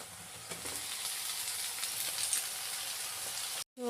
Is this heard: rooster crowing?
no